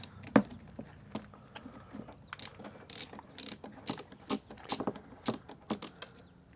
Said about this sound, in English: Get a wrench in there.